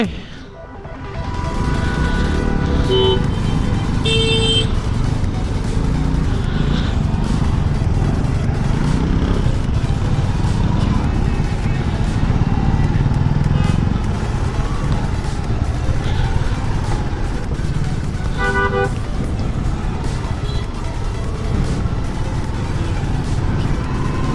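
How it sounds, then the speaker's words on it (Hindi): Heavy road traffic on a bike ride from Guwahati to Shillong, heard from a motorcycle: a loud continuous roar of engines and wind, with horn blasts cutting through and brief voices. "बहुत ट्रैफिक है रे बाबा इधर।"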